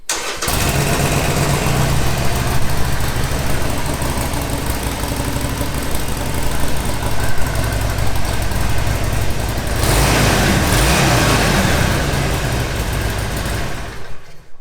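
A 2022 Harley-Davidson Sportster 48 (XL1200X) engine starts and settles into a loud, steady, rumbling idle close up, with a brief rise in revs partway through before cutting off.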